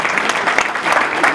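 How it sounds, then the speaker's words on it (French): Audience applause at a press conference, a dense, steady burst of many people clapping, loud and close for its short length. "je voudrais qu'on les applaudisse, s'il vous plaît"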